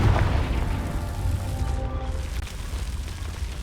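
A deep, rumbling blast from the Confringo fire spell in Hogwarts Legacy, heavy and booming at the start, then decaying into a rough, crackling roar.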